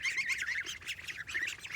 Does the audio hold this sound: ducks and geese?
yes